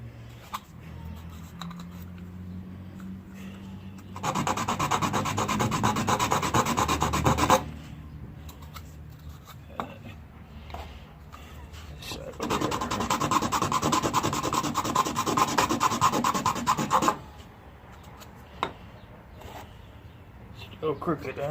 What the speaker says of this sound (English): Take the sandpaper. Use it to kind of level it out.